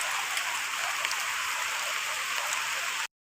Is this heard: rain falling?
yes